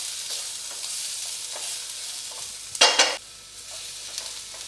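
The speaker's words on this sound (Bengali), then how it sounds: "পেঁয়াজ, ক্যাপসিকাম, টমেটো সবগুলোকে সটে করব, হাই ফ্লেমেই সটে করব।" Onion, capsicum and tomato sauté on high flame for a paneer tikka wrap, a soft steady sizzle broken by close spatula stirring and one loud scraping burst.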